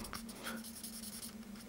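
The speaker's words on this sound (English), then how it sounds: "use poor man's marking blue on the aluminium block, which is a permanent marker," A permanent marker rubbing across an aluminium block in a workshop, a soft, close, continuous felt-tip scratching lasting under two seconds.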